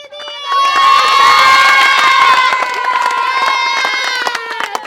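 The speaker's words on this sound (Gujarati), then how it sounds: "બધા ચીયર મને કરજો તાળીઓ પાડો" A crowd of girls and children at a lively outdoor game with RJ Devang bursts into loud, sustained shouting and cheering that rises sharply within the first second and carries on strongly throughout.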